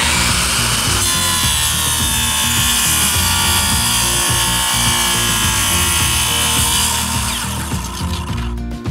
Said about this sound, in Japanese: それでは丸ノコは絶対この後ろに立たないようにしてください。